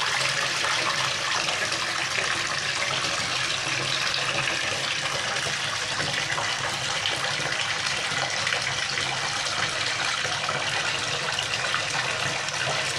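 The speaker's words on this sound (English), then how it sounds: "So I'm gonna turn the water on real quick." A bath tap running full force into a bathtub, a loud steady rushing gush of water that continues unbroken and close, with no voices.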